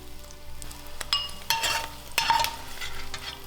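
A Chhattisgarhi vegetable dish dry-roasting in a pan, soft sizzling broken by a few sharp scraping stirs and clinks of a spoon, close and quiet with no talk.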